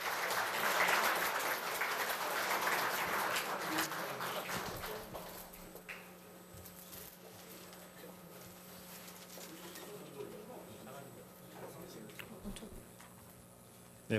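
Applause from an audience at an award ceremony at Korea University's labor graduate school, loud at first and fading after a few seconds into quiet room noise with faint scattered sounds.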